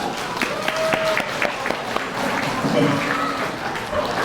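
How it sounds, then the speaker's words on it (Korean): Wedding guests clap steadily throughout a ceremony hall as the second congratulatory song is introduced, a busy wash of applause with a voice speaking over it. "다시 한번 여러분의 큰 박수와 함께 모시도록 하겠습니다."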